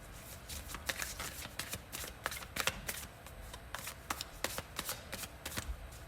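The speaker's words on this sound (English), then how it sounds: "I'm going to go ahead and shuffle live as always." Close, crisp riffling and flicking of a tarot card deck being shuffled over and over, with papery slaps in an uneven rhythm.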